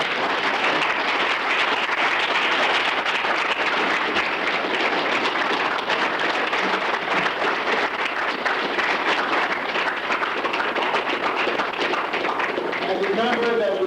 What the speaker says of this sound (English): let's give the brother a round of applause